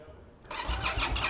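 An Indian Scout motorcycle engine starts up abruptly and settles into a loud, close rumble with pulsing low-end throb, rising after a quiet moment.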